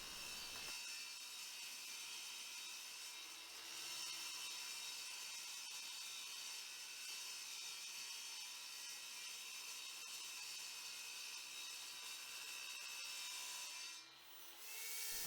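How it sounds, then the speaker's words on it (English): Cheap old table saw cutting through two strips of 3mm aluminium sheet together, a steady loud high-pitched whine and grinding scream held for most of the cut, dropping briefly near the end before resuming. "My old cheap table saw still cuts aluminium sheet quite happily."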